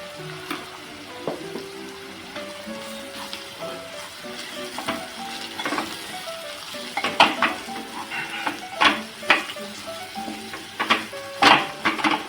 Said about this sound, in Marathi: तुम्ही ते गरम मसाला टाकलात तरी चालणार आहे ते ढवळून घेऊया